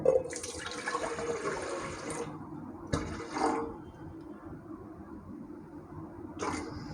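Water from a large pitcher poured into an idli cooker, a steady close splashing and gurgling stream that runs for a few seconds, then short splashes of pouring after a pause.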